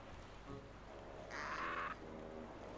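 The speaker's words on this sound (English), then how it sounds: "Kinda sounds like a parrot." A squawk from a parrot character in the PC adventure game Escape From Monkey Island rings out as one loud, harsh burst in the middle, set against a quiet game background.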